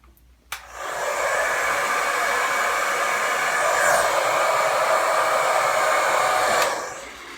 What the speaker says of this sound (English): I moved the hairdryer around the wig or around the spike so it kind of dried it